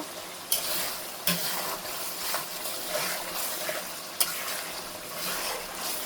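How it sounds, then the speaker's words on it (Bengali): Mustard hilsa masala being stirred and fried in a pan: a steady soft sizzle with scraping stirs and a few sharp spoon clicks against the pan, close and moderately quiet, no talking. "আর একটু এটা কষিয়ে নিব।"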